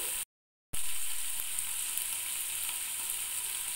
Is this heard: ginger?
yes